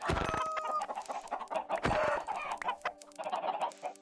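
Chickens cluck and squawk in Minecraft 1.18, several bursts of close, repeated clucking with a tonal in-game sound and short pauses between calls.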